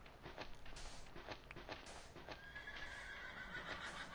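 Minecraft horse whinnying several times over clip-clopping hooves, the neighs short and repeated over a steady rustle, fairly faint throughout.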